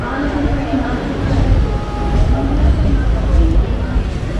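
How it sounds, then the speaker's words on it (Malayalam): A public-address announcement plays inside the Ernad Express passenger train, a loud voice over the steady rumble and rattle of the moving carriage. "ട്രെയിനിൻ്റെ അനൗൺസ്മെൻറ്റ് കേട്ടാ"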